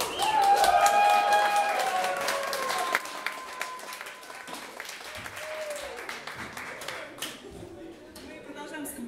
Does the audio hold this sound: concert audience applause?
yes